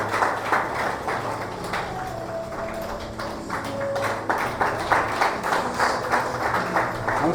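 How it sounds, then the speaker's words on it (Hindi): Steady applause fills a church hall during a Sunday evening prayer service as a student is welcomed, sustained clapping with rhythmic peaks, moderately loud throughout. "जोरदार तालियों के साथ, एकदम जोरदार तालियां"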